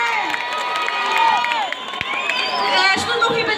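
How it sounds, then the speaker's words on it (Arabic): A crowd at a festival in Safi cheers and claps, with shouts, whistles and scattered calls rising and falling over a few seconds. "صفقوا عليه باش يحيد الحشمة"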